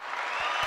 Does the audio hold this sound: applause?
yes